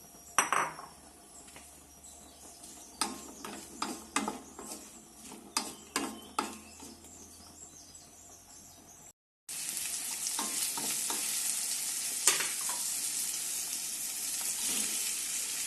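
Onion and green chilli fry in oil with crushed ginger and garlic in a pan, a close sizzle broken by repeated clinks and scrapes of a stirring spoon, then a brief gap and a louder, steady sizzle.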